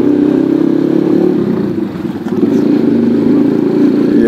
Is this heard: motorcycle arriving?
yes